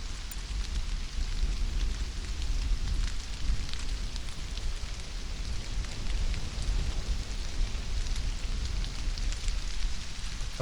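Steady rain falls in the survival game Stranded: Alien Dawn, a dense, even hiss of drops that keeps up at constant loudness from start to finish, with no voices over it.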